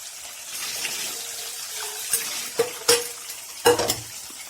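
Onions sautéing until golden in a pan for a Tamil catfish curry, a soft continuous sizzle broken by a few louder spatula scrapes and clanks near the end, close by.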